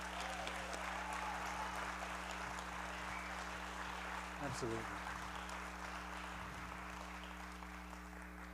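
An evening storytelling audience applauds a teacher, with sustained clapping under a steady low hum and a brief spoken word partway through.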